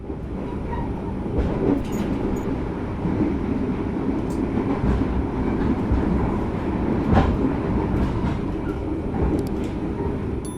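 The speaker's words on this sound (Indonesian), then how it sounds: "Sekitar 10 menit ke depan kereta api Ciremai akan tiba di tujuan saya stasiun Bandung" Ciremai passenger train running on rails near Bandung, a steady loud rumble from inside the carriage with rattling, periodic clicks of wheels over rail joints and occasional metallic squeaks.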